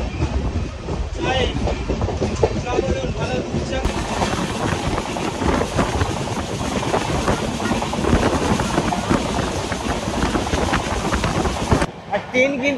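Tamralipta Express passenger train running at about 100 km/h, a steady loud rumble with rhythmic clickety-clack of wheels over rail joints throughout, with brief voices in the carriage.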